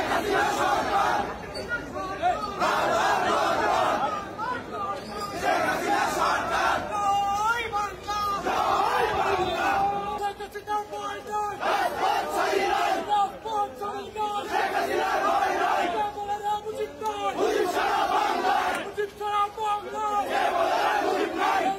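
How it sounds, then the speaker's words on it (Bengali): A crowd in a courtroom chants slogans in support of Hasina, loud massed voices rising and falling in repeated rhythmic call-and-response waves that keep going for around twenty seconds. "এই জন্যই আদালতে স্লোগান ওঠে হাসিনার পক্ষে।"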